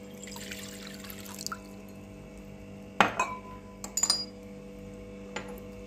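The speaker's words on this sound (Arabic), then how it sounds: "راني دايره كاس ماء." A glass of water is set out while pickling hot peppers, giving a couple of brief glassy clinks and light splashes against a quiet background, close by and without speech.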